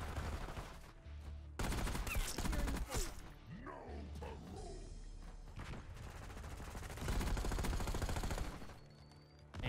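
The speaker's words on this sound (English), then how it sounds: "Rapid fire on the Ames 85." Rapid-fire shots from the AMES 85 rifle in Black Ops 6, quick bursts of gunfire mixed with game effects, coming in uneven clusters with brief drops between them.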